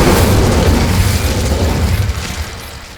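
A fiery Incendio spell blast from the Hogwarts Legacy video game, a loud sustained boom that rolls on for a few seconds and slowly fades, heard alone without talking.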